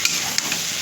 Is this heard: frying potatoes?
yes